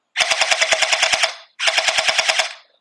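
An airsoft gun fed from a primed drum magazine fires two loud, close bursts of rapid, evenly spaced shots, about ten in the first and eight in the second, with a short pause between them.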